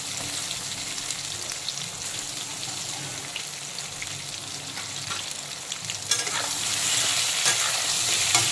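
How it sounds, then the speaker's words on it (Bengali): Turmeric-coated pointed gourd (parwal) fries on full flame in oil left from frying potatoes, giving a close, steady sizzle with stirring scrapes that grows louder and fuller toward the end. "পটলগুলোকেও খুব ভালো করে মিডিয়াম ফ্রাই করে নেব।"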